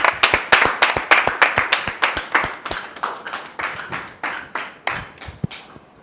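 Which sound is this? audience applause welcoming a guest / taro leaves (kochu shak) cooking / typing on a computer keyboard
audience applause welcoming a guest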